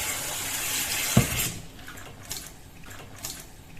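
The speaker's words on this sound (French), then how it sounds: "Il suffit d'imbiber la toile Infume Nature avec l'eau froide au robinet." Cold water runs from a kitchen sink tap onto a cloth cooking bell, a steady broadband rush for over a second before easing into quieter trickling and dripping.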